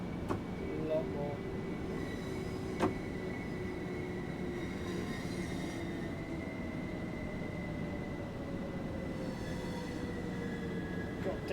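A Class 377 electric train in Train Sim World 4 inching forward at low speed, a quiet continuous rumble with faint whining tones and a brief clank, steady throughout.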